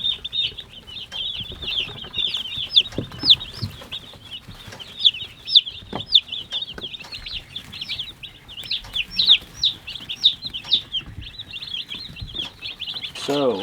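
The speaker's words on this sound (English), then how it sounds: "These guys, 1 day old chicks." Day-old unsexed Cornish cross chicks in a brooder peep constantly, with dense, high, overlapping chirps nearby, plus occasional soft thumps and shuffling.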